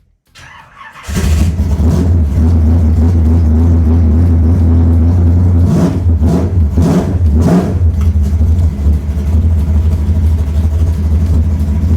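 A NASCAR race car with a straight-cut gear transmission fires up with a brief crank, then roars into a loud, steady rumble with a few sharp revs.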